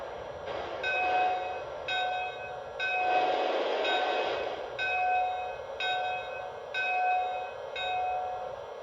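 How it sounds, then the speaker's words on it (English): A Lionel Legacy Western Maryland No. 6 Shay model steam locomotive's sound-effect bell clangs in a steady repeating rhythm, about eight strokes spaced roughly a second apart, clear and close with a faint rumble beneath. "Here's the bell, first of all."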